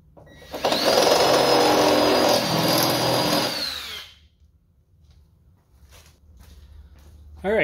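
A power drill with a 3/8 bit opens up a hole during a rock slider install on a Bronco, whining loudly for about three seconds before stopping, followed by faint handling noises and quiet movement.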